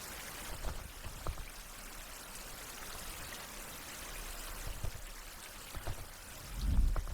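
Rain falls steadily outdoors in a bamboo survival setting, a continuous close wash of drops with a few heavier patters and a soft low thump near the end.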